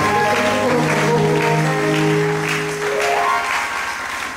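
Church congregation applauding during a French-language service, a dense sustained clapping crowd that stays loud for several seconds, with a voice and held sung or spoken tones woven underneath.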